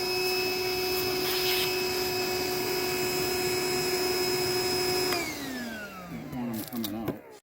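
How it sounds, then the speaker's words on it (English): Steady loud drone of a vacuum sucking up a honeybee swarm outdoors during a capture on Vancouver Island, running continuously before the motor pitch drops and winds down, with a voice talking over it. "There's still like so many bees to suck up though."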